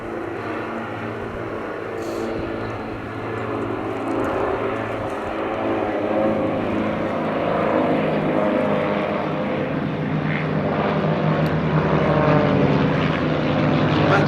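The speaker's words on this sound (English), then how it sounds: "all 6 of the RV-8s now with smoke on." Six Vans RV-8 propeller planes flying in formation with smoke at the Duxford Summer Airshow, a broad, continuous drone of engines at a distance that swells slowly and stays steady throughout.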